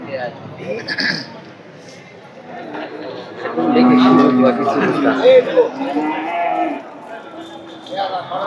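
Cattle lowing at a busy cattle market in Gazipur, with a few moos rising through crowded background chatter and people talking nearby across the whole stretch.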